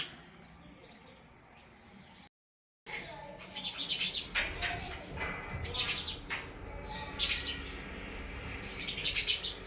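House sparrow pairs chirp in quick, bright bursts at a wooden nest box, several calls overlapping close by, over a steady background hiss and faint other sounds.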